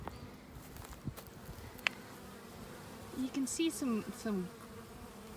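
Honey bees buzz around a hive at close range with a steady drone, broken by brief rising whines, while a voice speaks briefly.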